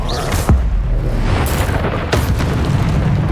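Descendo spell impacts in the video game Hogwarts Legacy: three sharp, heavy booms land roughly a second apart over a low rumbling background.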